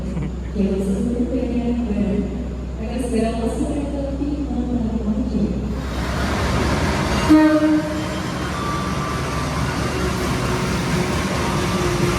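The Matarmaja passenger train passes at a station in Indonesia, with several horn blasts over a low rumble, followed by a louder, broadband wash of rolling wheels and carriage noise.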